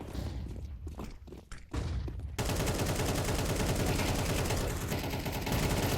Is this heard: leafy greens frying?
no